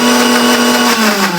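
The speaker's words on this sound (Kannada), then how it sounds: "ಇದನ್ನ ಮಸಾಲೆ ಆಡ್ಸ್ಕೊತೀವಿ" A mixer grinder grinds masala for egg biryani, a loud, steady motor whir with a high-pitched hum that runs without a break.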